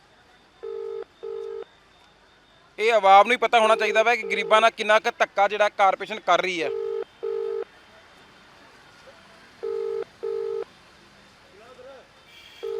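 Repeated pairs of electronic telephone tones sound at a steady rhythm, interrupted midway by someone talking over a phone line.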